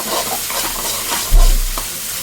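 Mutton with ginger garlic paste and green chillies frying in a pan, a dense loud sizzle with a stirring scrape and a heavy thump partway through, close up.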